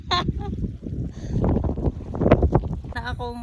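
Strong wind buffets an open outdoor spot during a sandstorm near Matruh, roaring steadily as broadband rumble across the microphone, with someone talking over it and brief bird-like calls near the start and end.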